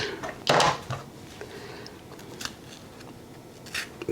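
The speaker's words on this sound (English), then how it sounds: "I'm going to cut one of these Beautiful yellow ones" Knife slicing into a yellow bell pepper on a kitchen surface, a few crisp crunching cuts scattered over a quiet background, one sharper and louder than the rest.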